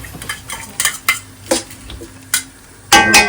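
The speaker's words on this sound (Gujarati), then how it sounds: "અમારે અહીંયા મોગો તળાય છે" Cassava (mogo) pieces fry in hot oil in a pan. Near, clear spoon or spatula clinks and scrapes stir them repeatedly over a soft sizzle, and a louder burst of sizzling comes at the end.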